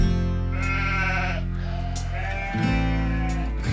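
Sheep on the Faroe Islands bleat in loud, close, wavering calls, one long bleat followed by another after a brief pause, with no talking.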